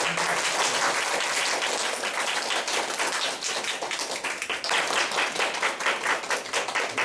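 Audience applauding after an appointment is read out at an association ceremony, dense, sustained clapping from a room full of people, filling the room throughout and nearby.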